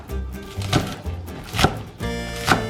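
Green onion is chopped with a knife, three crisp strikes on a board spaced under a second apart, close and moderately loud with no speech.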